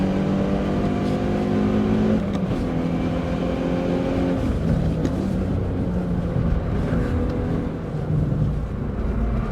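A Hyundai i20N engine pulls loud and steady throughout, its tone dropping and rising again around a gear shift, with constant road and wind roar beneath and no voices.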